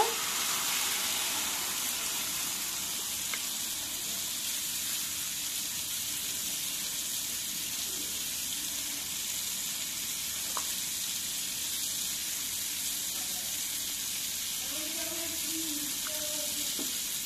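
Fish curry with tomato fries in a pan with a loud, steady sizzle as broth goes in, crackling continuously with faint clinks and soft background sounds.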